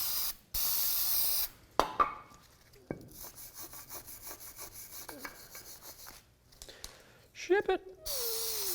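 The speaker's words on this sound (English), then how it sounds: "you'll want to hit it with some brake parts cleaner" Brake parts cleaner is sprayed onto front brake parts of a 2008–2012 Ford Escape, giving close, loud hissing bursts separated by handling clatter and quieter gaps.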